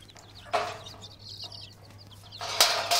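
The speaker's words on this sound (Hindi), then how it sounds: "हमारे चूजे झुंड बना के बैठे हैं, कीड़े मकोड़े ढूंढ लिए हैं ढूंढ रहे हैं" Young chicks in a huddled flock pecking about for insects, giving soft clucks and faint high chirps, with a couple of louder bursts of fowl noise near and then at the end.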